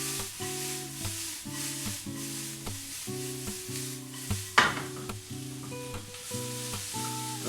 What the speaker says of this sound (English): my beetroot leaves go in there now